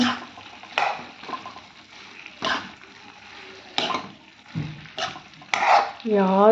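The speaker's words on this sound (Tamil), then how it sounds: "இப்போ எல்லாம் சுற்றி மிக்ஸ் பண்ணி விட்டுக்கலாம்." Cauliflower Manchurian is tossed in sauce in a pan, heard as a few separate close stirring and scraping strokes with soft utensil clinks, each strike followed by quiet gaps and ending in a brief faint tone.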